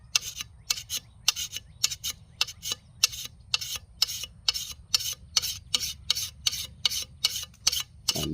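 A hand file rasps along the edge of a lawn mower blade in about twenty regular back-and-forth strokes, each a crisp scraping burst separated by short pauses, close and fairly quiet.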